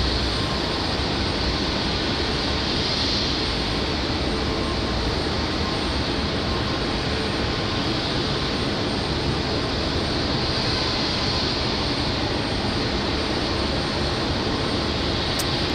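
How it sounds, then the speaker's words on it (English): Republic Airways United Express jet airliner arriving from Newark at Raleigh-Durham International on a windy day, a loud, sustained engine roar with broad rushing noise and no voices, staying steady across the whole stretch. "Again, Republic Airways. This one's a United Express coming in from Newark,"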